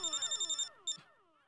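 Mobile phone ringtone in a sitcom scene, a rapid electronic trilling pattern repeating for under a second, then a brief chirp before a fading musical tail.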